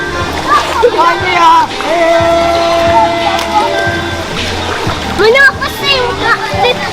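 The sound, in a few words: someone swimming and splashing in a river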